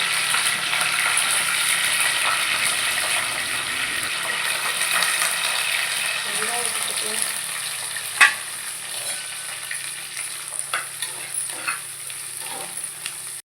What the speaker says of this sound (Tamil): வெந்தயம் கொஞ்சம் போட்டுக்கலாம். பொரிஞ்சு வந்ததுக்கப்புறம் கருவேப்பிலை கொஞ்சம்